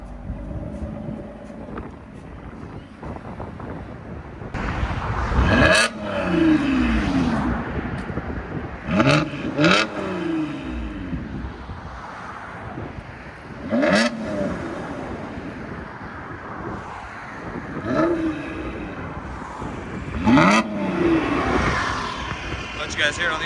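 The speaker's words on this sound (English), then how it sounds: "Toyota Camry V6 TRD. Fully straight pipe." 3.5L V6 engine of a 2020-2024 Toyota Camry TRD with straight-pipe exhaust revving in a series of loud bursts over background noise, heard from outside at moderate distance.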